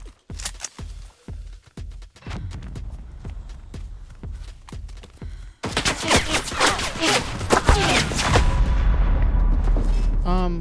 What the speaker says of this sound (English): Did you guys hear my gun fire?